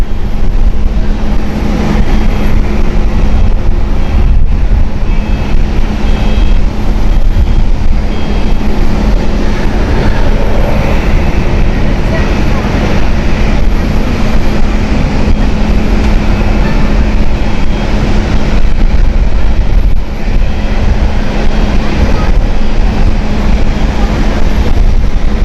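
A Vueling airliner takes off at Amsterdam Schiphol, a loud continuous jet roar with steady low rumble and broadband hiss held for the whole stretch, distant and sustained without talk.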